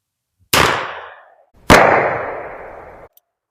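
.44 Russian revolver shots fired at cans, two loud sharp reports about a second apart, each with a ringing, decaying tail outdoors.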